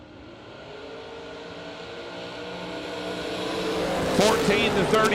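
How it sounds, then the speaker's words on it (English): Drag racing cars, an American Chevy 2 and a Camaro, launching at an event, engine roar building steadily louder and ending in a sharp rising howl, with an announcer talking over it. "Cameron Adkins in the Camaro leaving first"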